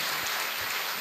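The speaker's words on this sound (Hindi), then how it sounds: "उनके लिए बहुत जोरदार ताली से" A crowd at a building inauguration claps for an honoured elder sister, a brief, dense patter of applause like rain that holds steady for about a second, with no talk over it.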